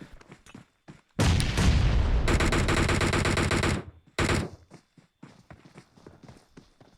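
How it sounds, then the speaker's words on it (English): Sustained close automatic gunfire in a battle-royale video game match, a loud continuous volley lasting about three seconds, then a short second burst, with scattered quieter shots and clicks before and after. "Dizzy trying to take shots here"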